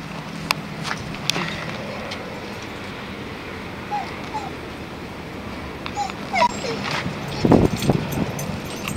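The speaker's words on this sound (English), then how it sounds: "The non-silence of the beagles." Beagles whimper and give short high yips indoors, with brief whines scattered over a quiet background and a louder burst near the end, while a person talks.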